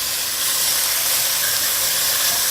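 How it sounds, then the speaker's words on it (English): Sliced beef for yakisoba sizzles loudly in a hot pan, a dense, continuous close hiss with no pauses. "I'm going to go ahead and put on the beef"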